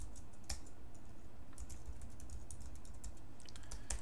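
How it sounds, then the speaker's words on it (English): A password being typed on a computer keyboard, with sparse, light key clicks scattered across a few seconds over a steady quiet background hiss, close by and with no voices. "Type in the password from cPanel again"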